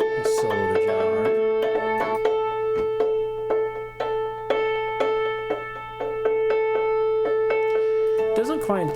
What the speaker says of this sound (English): Let's solo the jaw harp.